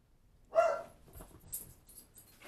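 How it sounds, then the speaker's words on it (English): Pet dogs indoors react to a mailman's arrival with one sharp, fairly close bark, followed by faint whimpers and scuffling in an otherwise quiet room. "my dogs are freaking out"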